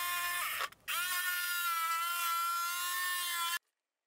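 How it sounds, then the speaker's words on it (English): Jigsaw cutting through a wooden cornhole board: a steady, loud, high buzzing motor whine with a brief dip near the start, running for about three seconds before stopping abruptly. "Then I used the jigsaw and followed the lines as best I could."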